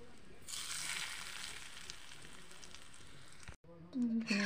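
Hot oil sizzles and fries steadily while being mixed into spices for a kordoi (star fruit) pickle, a loud continuous hiss that cuts off briefly near the end before a voice begins.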